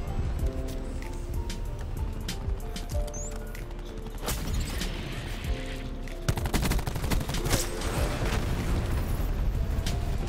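Grenade launcher fire and constant gunfire during a Call of Duty Black Ops 4 match, with dense, loud bursts of shots and explosive booms running throughout with no pause.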